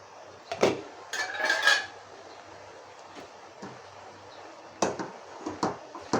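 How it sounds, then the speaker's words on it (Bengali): Food is stirred and turned over in a pan, with a series of metallic scrapes, clanks and rattles of a utensil against cookware over a quiet background, coming in bursts. "একটু নাড়াচাড়া দিয়ে নিচে উপর করে দিতে হবে"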